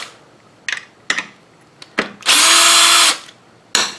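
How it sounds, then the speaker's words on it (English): A screw gun zips out 8 mm bolts on a GY6 scooter during an oil change, with a few short clicks and handling taps, then a loud sustained burst of drilling close by, and a final brief knock. "you can take them out with just a screw gun. And that's what I'm going to do just to make it easier."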